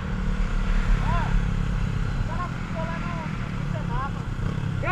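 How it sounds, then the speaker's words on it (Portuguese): A motorcycle engine drones past on a street in Maceió, a steady mid-level buzz carrying through the whole stretch with birds chirping intermittently over it. "Outra moto."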